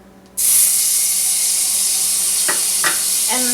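Chopped garlic hits salted butter with shrimp and bursts into a loud, sudden hiss that holds as a steady close sizzle, with a few light clicks of a spoon near the end; no talking.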